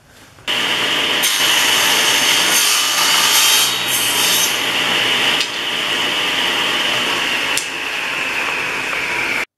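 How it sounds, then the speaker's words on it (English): A saw cuts angled pieces of maple border trim, sounding loud and close as one continuous rasping whine with brief dips between passes. "So I'm going to cut those at angles and see how it looks"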